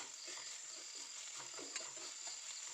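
Vegetables frying in a pan for bisi bele bath, a steady soft sizzle with light scraping stir strokes throughout, fairly quiet and close, with no talking.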